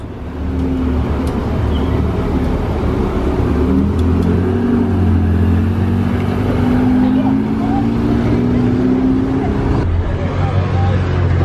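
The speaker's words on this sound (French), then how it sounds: "Porsche 918 noir qui quitte Juan les Pins." A powerful Porsche 918 engine rumbles nearby and its pitch climbs as it revs and pulls away through Juan-les-Pins, with a steady background drone.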